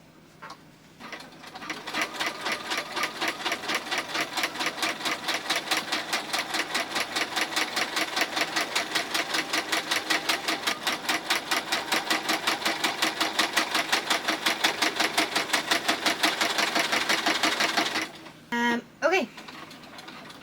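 Sewing machine stitching stretched fabric for pajamas, a long, close, rapid run of rhythmic mechanical clatter that starts after a brief pause and stops near the end, followed by a few short knocks.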